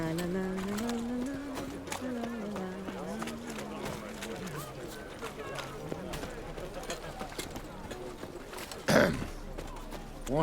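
Horse hooves clip-clop in a steady rhythm in the video game The Witcher 3, quiet beneath a voice and background music, with a louder thump near the end.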